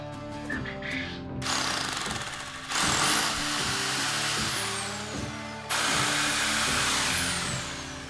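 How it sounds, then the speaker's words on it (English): A power drill driving screws for a greenhouse addition whines in repeated bursts, each rising and holding at full speed before stopping, close by, with a steady rhythmic rattling throughout and no talking. "To put up these, just drill them in."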